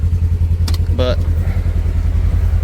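A Polaris General UTV's engine idles steadily in a low, even rumble, with a brief voice and a short clatter breaking in over it.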